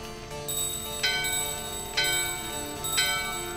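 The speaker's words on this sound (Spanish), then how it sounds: "vamos a tocar la campana" A bell in Final Fantasy IX is struck three times at a steady pace about a second apart, each strike ringing bright and clear and then fading under a soft background.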